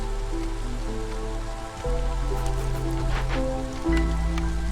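Rain falls steadily in the video game Against the Storm, a dense hissing patter of drops over a low sustained music or ambient drone, continuous with no speech.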